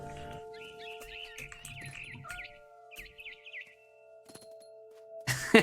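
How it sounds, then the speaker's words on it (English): A barn swallow in the video game What Remains of Edith Finch gives a run of quick warbling chirps in short bursts over a low musical hum, ending in a sudden loud noise. "Then I heard chirping outside my window. It was a barn swallow going back to her nest."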